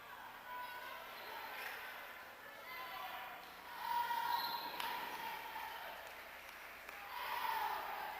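A high school basketball crowd at the 1995 Irving Oil Hoop Classic, St. Malachy's High against Harrison Trimble, keeps up a steady roar of cheering and applause that swells midway and again near the end, under a commentator's voice.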